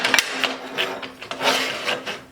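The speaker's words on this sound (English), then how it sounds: "How many of you guys will put a steel pipe across your table saw?" A Rage 5S saw cuts through a steel pipe, giving a harsh, gritty grinding rasp that comes in uneven bursts and surges over about two seconds, close and fairly loud.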